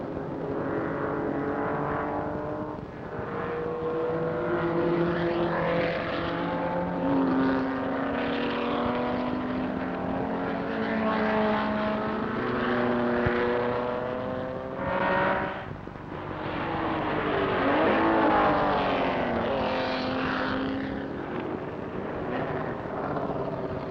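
Racing cars at speed during the 1970 American Road Racing Championship at Road Atlanta, with a sustained, loud engine roar and shifting pitch bands as several cars race close together down the pit straight, continuous for the whole stretch with no talk.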